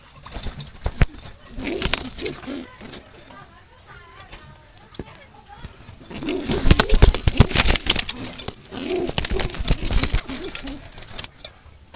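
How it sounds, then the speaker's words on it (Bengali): Red-eyed Jalali pigeons coo softly nearby under frequent talking, with some metallic jangling and other background noises mixed in. "লাল চোখের কবুতর"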